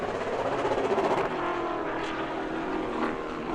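A Pro Late Model race car runs at speed on the New Smyrna track ahead of taking the green flag, a steady, loud engine roar filling the whole stretch, heavy rumble with a slight swell early on, no voices.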